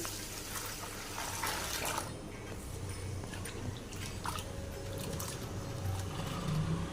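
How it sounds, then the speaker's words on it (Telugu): Water sloshes and trickles as rice is swirled and rinsed by hand, a continuous close wet rustle with occasional drips. "ఇలా తీసుకున్న రైస్ని రెండుసార్లు వాటర్ వేసి వాష్ చేసుకోవాలి"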